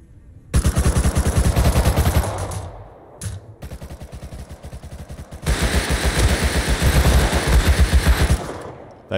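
Rapid automatic gunfire rattles out in long loud bursts in the survival game Rust Console Edition, with a short pause before a second, heavier volley continues near and close.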